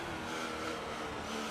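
An F1 car in the racing game F1 2018 accelerates out of a corner, its engine a faint, steady high-pitched drone over a short burst.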